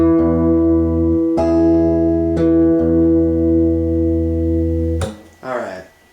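An acoustic guitar plays a measure from a song, with several ringing chord strums moving between open D and open E. The notes sustain close and loud, then a brief low voice follows near the end.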